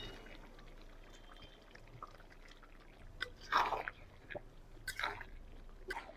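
Potatoes going into a pan of frying country chicken curry, a few wet splashing, clattering bursts over a soft low background, close and fairly quiet.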